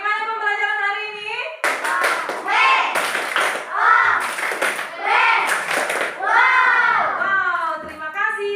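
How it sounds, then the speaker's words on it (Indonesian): Young pupils in a classroom clap their hands together in several bursts of rhythmic applause, mixed with children's voices chanting and singing along. "Sekali lagi tepuk tangan"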